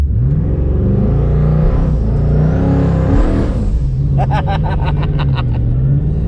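A Ford Mustang S550 with a Coyote V8 and a rebuilt transmission starts up and revs, its deep rumble rising and falling through several throttle blips, loud and close.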